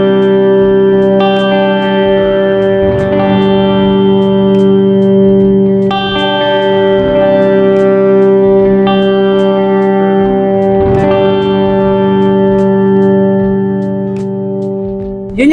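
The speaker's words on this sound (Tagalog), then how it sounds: "Yun yung tunog ng ating reverb." Ambient reverb on a Mooer GE100 guitar multi-effects unit: sustained, shimmering guitar chords wash together in a long, dense tail, with new strums at a few points swelling over the ringing decay, loud and steady throughout.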